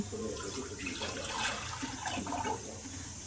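Water runs and splashes steadily into a metal pressure cooker, a continuous close gushing pour with no voices.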